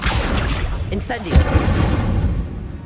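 Incendio fire spell cast in Hogwarts Legacy on PS5, a loud whooshing burst with a deep boom and low rumble over busy combat noise, a voice speaking during the effect.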